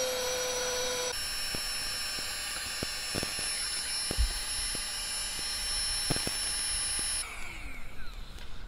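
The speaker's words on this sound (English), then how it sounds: "we're going to be using this little pump by Flextail Gear to inflate the pack raft" Small electric Flextail Gear pump inflating a packraft, a steady, high-pitched whining drone that runs close and continuous, with a few clicks and knocks, and the pitch shifts near the end.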